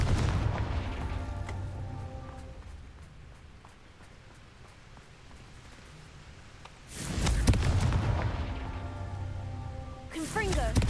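A Confringo blasting curse explosion in Hogwarts Legacy, a broad burst that erupts and roars for a few seconds and is followed later by another sharp blast, loud against a quieter ambient background.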